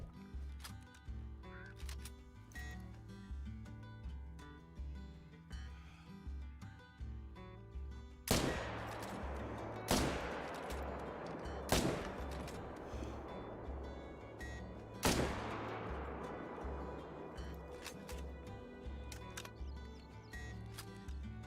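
Rifle shots from a .300 rifle in a whitetail hunting video game: four sharp, loud reports spaced a couple of seconds apart, each with a ringing decay, over a steady rhythmic in-game background.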